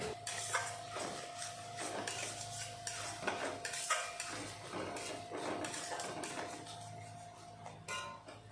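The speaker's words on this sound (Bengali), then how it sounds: "এখন ভালো করে কষিয়ে নেব।" Spices for a vegetarian banana flower kofta curry stirred in a pan with sugar and salt, a spoon scraping and clinking against the metal in a steady rhythm over a faint sizzle, close and moderately loud, no talking.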